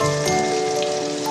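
Panch phoron spices hitting hot oil with frying aubergine, producing a brief, close, bright hissing sizzle like light rain, with a steady tonal hum underneath.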